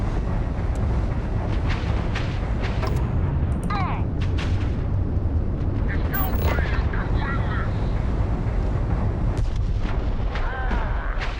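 Heavy rumbling explosions and blasts from the space combat game Starfield, loud and continuous, with sharper bursts and whooshing effects layered over a dense low roar; a voice talks briefly.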